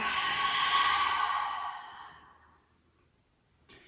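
A long, slow exhale during a yoga flow, a soft airy breath that swells and then fades over a couple of seconds, followed by quiet and a brief faint rustle at the end.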